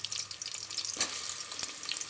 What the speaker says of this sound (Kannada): ಆನಿಯನ್ ಹಾಕೊಳ್ಳೋಣ.